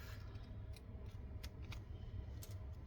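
Scissors cutting through craft material, a series of crisp, close snips spaced irregularly over a low background hum, with no talking.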